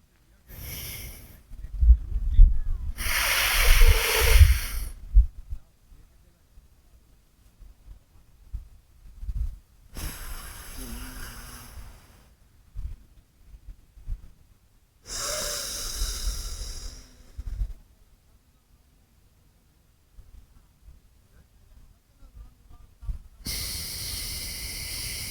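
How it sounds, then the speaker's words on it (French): Slow pranayama breathing through the nostrils during a beginner yoga session, with a few long airy nasal breaths separated by quiet pauses, close and fairly loud. "tu finis par expirer tout par la narine gauche"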